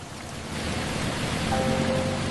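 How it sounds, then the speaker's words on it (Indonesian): Steady rain makes a dense, even hiss that rises slightly in loudness and holds without a break, with no voices. "Hujan."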